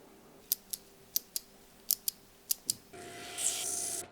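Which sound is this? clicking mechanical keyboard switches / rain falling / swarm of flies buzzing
clicking mechanical keyboard switches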